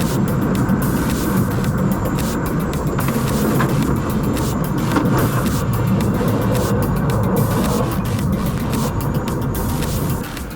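A race car launches from the start of a BTCC-style event, its engine roaring loud and continuous with a broad rumbling drone that holds steady throughout, with no talk.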